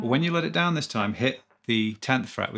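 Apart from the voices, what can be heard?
No everyday noises stand out.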